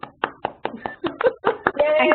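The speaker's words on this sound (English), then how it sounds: "give a round of applause to Aruna and Isadora" About ten distinct hand claps sound in an uneven series on an online video call, fairly close and clear, with a voice starting to speak at the end.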